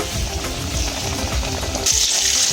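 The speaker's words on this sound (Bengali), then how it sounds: "তেল গরম হয়ে গেছে, এবার কোট করা চিকেনগুলো আমি তেলে ছেড়ে দিচ্ছি" Coated chicken pieces frying in hot oil give a close, busy crackling sizzle that swells into a brighter, hissier burst near the end, with no speech.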